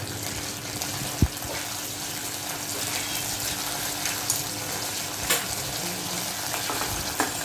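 Ginger garlic paste fries in a pan over a low flame for vegetable biryani, giving a steady, even sizzle with a few soft clicks and clinks, with no talking.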